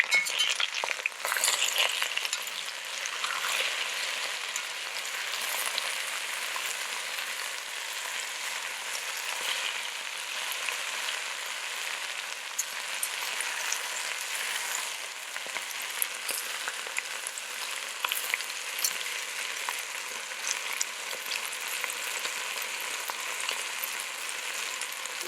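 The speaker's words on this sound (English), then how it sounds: "Now I'm going to stir it." Diced potatoes fry in oil in a pan for Trinidad-style vegan fried aloo, giving a continuous hissing sizzle that stays steady and close throughout, with no talking.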